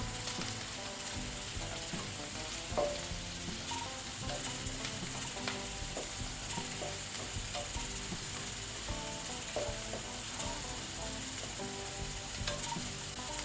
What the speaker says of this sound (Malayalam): ഇനി ഇതിനകത്ത് ഒരു 2 പച്ചമുളക് അരിഞ്ഞത് അതും ഇട്ട് കൊടുത്തേ. എല്ലാം കൂടെ നല്ല വഴറ്റിയെടുക്കാം.